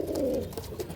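Pigeons of a Malbai-type breed, male and female, coo in a low rolling burst up close, with softer repeated coos following, no talk over them.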